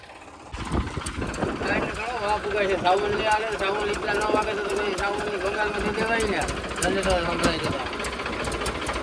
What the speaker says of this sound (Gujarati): હવે છે ને જનરેટર ચાલુ કરે છે આ ભાઈ